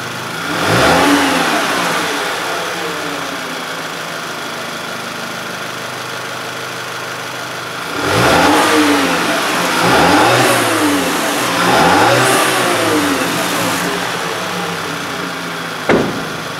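A 2010 Volkswagen Tiguan 2.0T with a throttle valve controller fault idles steadily, then rises in a few close, loud revs, including a run of repeated revving in the middle before settling back to a rough idle.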